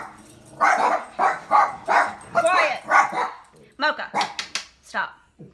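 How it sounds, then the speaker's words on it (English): Pet dogs bark indoors in a run of sharp, loud, close barks at an irregular rhythm, followed by yips and whimpers. "I'm filming today, and my dogs are out."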